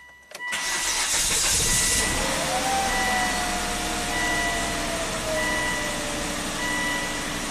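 A Volvo turbo engine cranks and catches after a jump from a boost pack, then settles into a steady, loud idle with a whining tone and intermittent beeps nearby.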